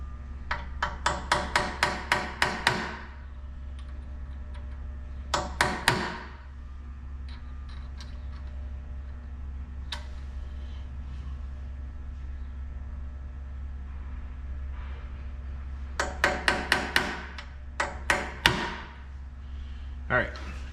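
Rapid series of sharp metallic hammer taps on a center punch marking a broken bolt for drilling, several quick bursts of strikes separated by pauses, ringing against a steady low hum.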